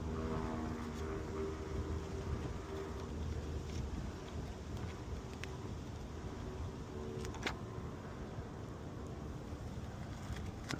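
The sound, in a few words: wind blowing outdoors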